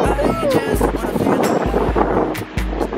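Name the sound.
wind blowing into microphone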